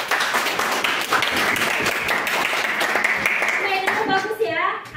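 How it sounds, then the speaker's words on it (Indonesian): Students in a classroom clap for a few seconds, the applause steady and fairly close, then fading as children's voices and chatter come through toward the end. "Tepuk tangan untuk kalian semua."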